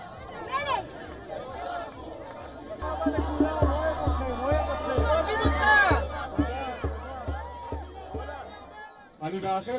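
A jubilant crowd in Israel welcomes a freed hostage home with loud, lively chatter and cheering over a steady, pounding low drumbeat, ending in a burst of noise.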